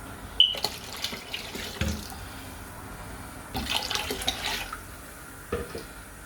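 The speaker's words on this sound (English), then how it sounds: "I'm just going to add half more liter of water." Half a liter of water added to a pot of jollof rice, heard as close tap-like running and splashing with a few bursts and clatters, fairly loud and alone.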